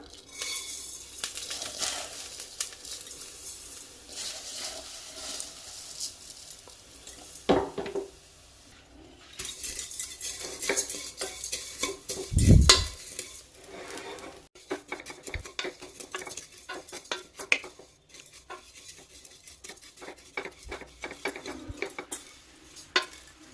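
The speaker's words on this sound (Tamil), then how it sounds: "நம்ம 2 ஷிஃப்டாக போட்டு வறுத்து எடுத்துக்கலாம்." Vermicelli roasting in a pan for mutton semiya biryani, with dry scraping stirs and metal utensil clinks against the pan, a faint patter of roasting underneath and a few louder knocks; no talking.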